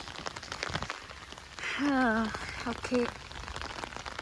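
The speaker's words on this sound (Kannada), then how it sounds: "ಒಳ್ಳೆ ಮಳೆ, ಚಳಿ, ಮೈಸೂರು ಕೊಡಗು ಥರ ಆಗಿಬಿಟ್ಟಿದೆ." Steady rain falls across a plantation estate planted with small pomegranate and sapota trees. The soft, even hiss runs beneath a person talking close by.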